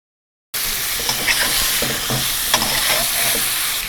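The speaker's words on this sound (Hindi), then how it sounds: "विंग्स को हमने 3 से 4 मिनट तक भून लेना है मीडियम फ्लेम पर" Chicken wings and garlic frying over a medium flame in a karahi, a loud, continuous close sizzle with intermittent scraping and stirring knocks after a brief silent start, without talk.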